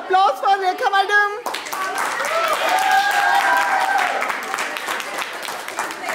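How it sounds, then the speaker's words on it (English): An audience at an indoor training session bursts into loud, sustained applause that follows a brief spoken introduction and carries on steadily to the end. "Big round of applause for Rekha madam."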